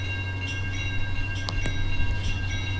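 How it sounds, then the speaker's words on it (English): A BNSF freight train passing a lowered rail crossing, a steady close rumble of rolling cars with a faint bell-like ring and a couple of brief sharp squeals, with no talk. "Let's watch this train."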